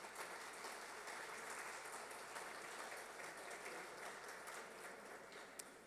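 Steady applause from an audience at a talk on technologies, research and prospects for Brazilian viticulture, a dense even wash of clapping that holds throughout at moderate, slightly distant level.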